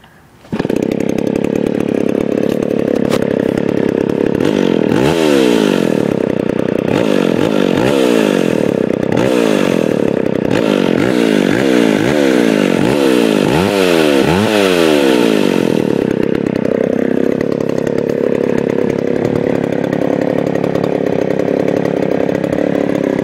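A McCulloch 610 chainsaw starting from cold: repeated pull-cord yanks whir under a steady loud drone, then the engine catches and runs continuously at a rough, high idle, close and loud for the rest of the stretch, no talking.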